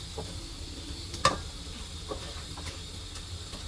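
Dried sticky rice fries in a pan with a faint, steady sizzle, punctuated by a sharp clack of a utensil against the pan and a few softer stirring knocks.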